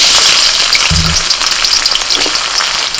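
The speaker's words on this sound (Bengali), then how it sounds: "আবারও কড়াইতে সর্ষের তেল দিয়ে দিচ্ছি তেল গরম হলে দিয়ে দিচ্ছি পেঁয়াজ কুচি" Chopped onion dropped into hot mustard oil in a wok, a loud, continuous bright sizzle throughout, with a brief low thump as the onion goes in.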